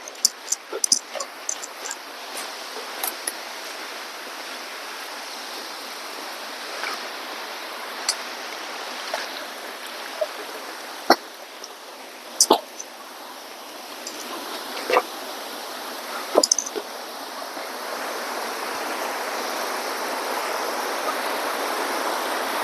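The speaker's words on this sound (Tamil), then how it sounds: "நம்ம ரீச் பண்ணிட்டோம் பாறை இடுக்குல இருந்து வர தண்ணிய." Water flowing from a rock crevice into a stream outdoors, a steady close rushing wash with scattered splashes and brief clicks, no talk.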